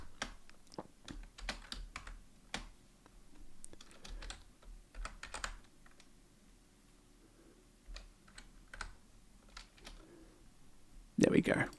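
Typing on a computer keyboard while coding in C++ with Vulkan, with scattered bursts of clicky keystrokes in irregular clusters, close and moderately loud, then a louder clatter at the end.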